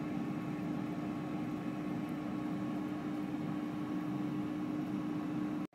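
A Ninja air fryer runs on its air fry setting at 375 degrees, giving a steady, unbroken fan hum with a constant low tone that holds evenly throughout before cutting off abruptly at the end.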